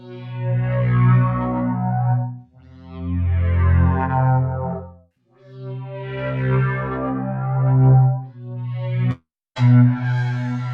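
The King of Digital iOS synthesizer app plays raw samples as a series of long, buzzy chords in separate bursts with gaps between them, followed by a short, abrupt final note.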